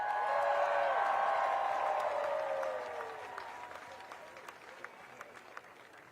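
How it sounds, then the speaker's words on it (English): Crowd applause at an outdoor No Kings Day protest in Atlanta, dense clapping and cheering loud at first, then thinning and fading toward the end with scattered claps. "Give yourselves a round of applause."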